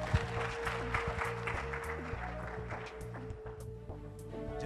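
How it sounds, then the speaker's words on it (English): Applause from an audience greets a contest candidate at a final event, a sustained wash of clapping over a low hum, with a voice audible amid it. "A round of applause for her."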